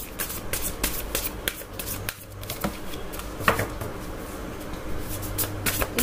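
Tarot cards shuffled by hand in a quiet room, a steady run of soft riffling flicks and card slaps with a few sharper snaps, close and fairly faint, with no talking.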